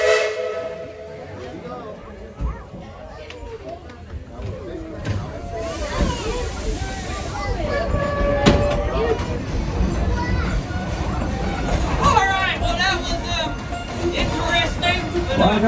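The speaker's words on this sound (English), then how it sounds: "Let's get this train on back to town." Thomas steam train at Tweetsie Railroad's Wild West show sounds its whistle amid hissing steam and chuffing as it pulls away, with crowd chatter and talk running throughout.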